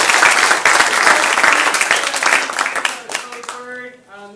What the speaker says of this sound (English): Let's do one more round of applause.